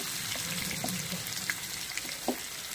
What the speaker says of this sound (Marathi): आणि त्याच्याच एक साईडला आपल्याला सोडायचं आहे कोळंबी तेलामध्ये, म्हणजे ती छान तेलामध्ये फ्राय होईल मसाल्यासोबत।